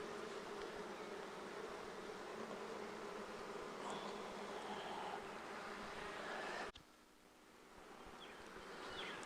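Honey bees drone in a continuous, even buzz around an opened hive during an inspection, close and fairly faint. A sharp click near the end leaves the hum quieter for the last few seconds.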